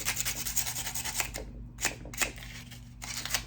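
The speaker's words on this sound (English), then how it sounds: "you can just kind of sandpaper it off" Sandpaper rubbed over wood while building a miniature dollhouse, a steady run of close, gritty back-and-forth strokes that pause briefly and then resume.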